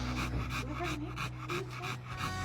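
An American Bully dog pants rapidly and steadily at close range, quick rhythmic breaths over a low background hum.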